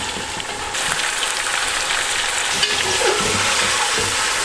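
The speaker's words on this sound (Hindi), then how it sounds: "हमने अपने इस चिकन को लहसुन अदरक के साथ 2 मिनट के लिए भूनना है" Chicken fries with garlic ginger paste in hot oil, sizzling steadily and close up while being stirred, with no voices over it.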